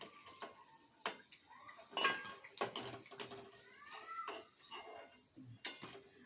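Metal utensils clink against a pan as fried potato bhaji fritters are lifted out, several sharp scraping taps spaced irregularly, close and fairly quiet.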